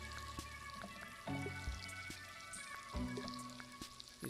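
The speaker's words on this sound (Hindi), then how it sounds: "इसको गर्म करके 100 ग्राम इसमें बटर ऐड करेंगे और बटर को मेल्ट होने देंगे। बटर हमारा मेल्ट हो रहा है।" Butter melting in a hot wok, a soft patter of crackles and faint sizzling pops, quiet and close, with a few louder clatters from the pan.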